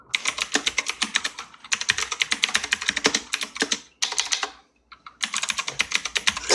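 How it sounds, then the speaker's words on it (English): Rapid typing on a computer keyboard while an email is written, with dense bursts of key clicks broken by a few short pauses, close and clear with no talking. "I'm gonna type it to you in an email right now."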